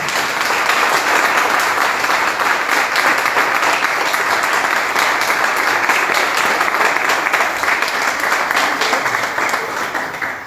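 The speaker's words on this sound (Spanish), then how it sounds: "Ahora sí, demos un aplauso para Dios." Church congregation gives a loud, sustained round of applause, dense clapping holding steady for about ten seconds with a faint murmur of voices underneath.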